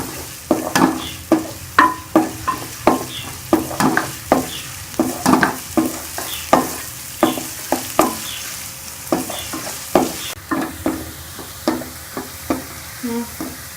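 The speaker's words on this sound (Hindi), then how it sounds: "हम घी के अंदर प्याज को डाल देंगे, इसको हम प्याज को ब्राउन कर लेंगे" Onions frying in ghee, stirred in a pan until they brown, with a steady run of regular scraping strokes over a constant sizzle, close and fairly loud, no talking.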